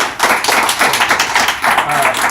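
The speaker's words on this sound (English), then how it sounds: "You owe him a huge round of applause." A class gives a round of applause, loud close-up clapping from a small group with individual hand claps distinct in a quick, uneven rhythm throughout.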